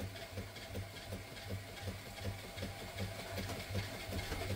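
Hoover 240V electric motor driving a Kennedy saw with no blade fitted, a steady low mechanical whir with a faint rhythmic knock as it turns freely.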